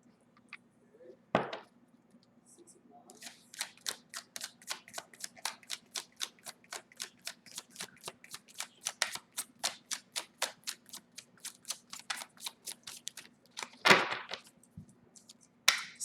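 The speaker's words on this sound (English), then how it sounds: "I shuffle cards." Tarot cards are shuffled by hand in a long run of quick, rhythmic riffling bursts, close and crisp, with a few sharper handling taps at the start and near the end.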